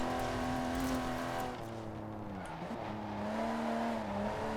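A V6 SUV engine in the video game Forza Horizon 4 hums steadily at moderate volume, pitch dipping briefly midway as if shifting or easing off, then rising again to a sustained drone.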